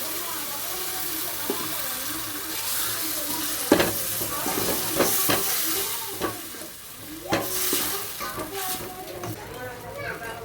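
A large pot of mung bean and potato curry with added water bubbles and simmers in a pan, with a spoon stirring and scraping in uneven bursts while someone talks over it.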